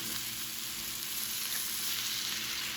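Seasoned steak meat frying in a pan for a Philly steak cheese casserole, a steady close hiss and crackling sizzle that stays even throughout with no voice.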